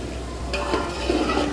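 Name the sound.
chickpeas being fried and stirred in masala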